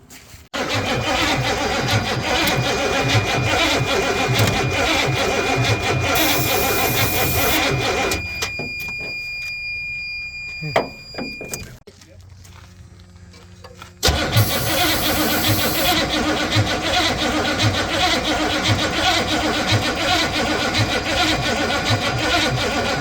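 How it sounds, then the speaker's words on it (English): Engine of a custom bumpside Ford F250 4x4 cranks and catches, running loud and close, then a whirring crank with a pause before it fires again and settles into a steady rough run. "I might have to just turn over a little faster."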